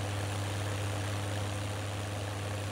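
Tractor engine idling while running an Akron bagger, a steady low drone with a constant hum and no breaks, moderately near.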